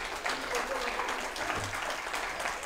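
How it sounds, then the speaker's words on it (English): A church congregation claps in praise during a worship service, a steady wash of clapping that fills the whole stretch, with voices mixed in beneath it. "let's stand and give him a hand clap of praise"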